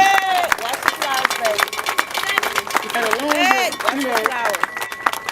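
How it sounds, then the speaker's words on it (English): Crowd applause at a rally for a family, dense clapping mixed with cheers and voices, loud and steady throughout, with a speaker's voice cutting through over the noise. "let's give them a round of applause"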